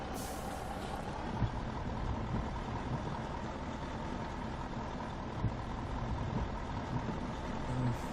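A MAZ 6422 truck in Euro Truck Simulator 2, hauling irradiated soil, idles at red lights with a steady low diesel rumble and a faint hiss of air, continuous and unchanging throughout.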